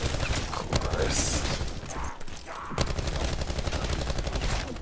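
Rapid automatic gunfire from a gun in the Call of Duty Zombies map Blood of the Dead, sustained and loud through nearly the whole stretch with a brief dip in the middle, while players talk over it.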